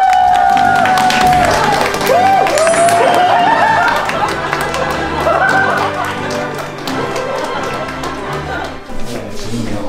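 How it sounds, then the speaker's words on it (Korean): A small group in an office applauds and cheers as a celebrity guest, an actor, arrives, with loud clapping, excited voices and chatter mixed together, easing off toward the end. "박수 한번 주세요"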